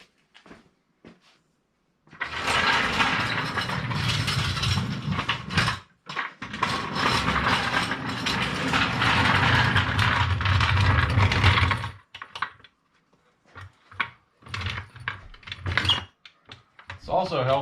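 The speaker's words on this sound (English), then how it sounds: "Now we're going to put a jack underneath and stabilize it so we can work it out some more." A jack clicks and ratchets as it is pumped up under the fuel tank of a 1997 Jeep Wrangler TJ, a run of mechanical clatter followed by scattered knocks and clinks.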